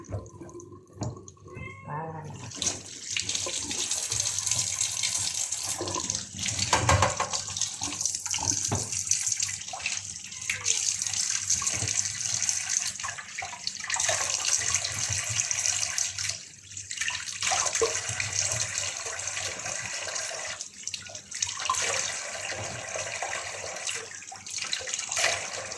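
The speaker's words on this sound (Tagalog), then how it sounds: "Hugasan lang po natin guys lahat ng itlog" Tap water runs steadily while raw eggs are washed one by one for red eggs, a continuous splashing hiss with small clatters and changes in the flow, close by, with faint talk at times.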